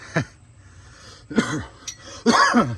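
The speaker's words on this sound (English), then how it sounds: "Sorry, damn, I'm coughing" Three separate coughing bursts, close and fairly loud, spaced with short pauses between them.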